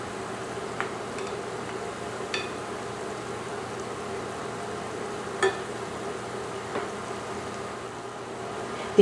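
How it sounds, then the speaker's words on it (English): Cornmeal fritters fry in oil in a skillet with a steady, soft sizzle, broken by a few faint spatters and clicks. No voices are heard. "let's turn the cornmeal fritters to the other side and continue frying until golden brown"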